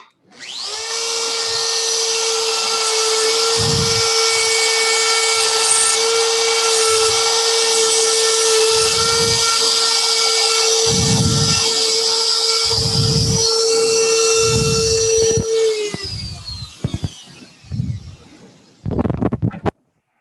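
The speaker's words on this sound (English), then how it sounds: "now I'll move my depth gauge to the deeper cut and turn my router on." A wood router cuts a bowtie patch recess into a cracked wooden bowl, guided along a template at a deeper depth setting. Its loud, steady high whine runs for about fifteen seconds and then winds down, followed by scattered knocks and clatter.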